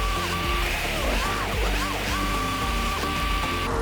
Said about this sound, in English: it's sliding actually pretty nicely, but it's not the easiest thing to drift.